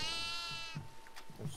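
A goat bleats loudly in the horror video game Devour, a long wavering cry that cuts off sharply, followed by faint scattered clicks and low background sounds.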